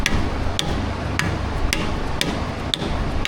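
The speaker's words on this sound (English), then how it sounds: "Let's tap this thing on in." An axle seal on a Ford 2.7 EcoBoost is driven into place with a hammer: seven sharp, evenly spaced metallic strikes, close and loud over a steady shop hum.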